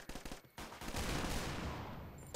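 Gunfire in the game Point Blank comes as a quick burst of shots followed by a longer sustained rattle of rapid firing, fairly faint overall, with no talk.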